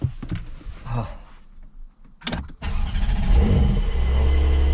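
A 2023 Porsche 911 Carrera GTS engine cranks and fires up partway through, after a few faint clicks and cabin sounds, then holds a loud, steady idle that continues to the end.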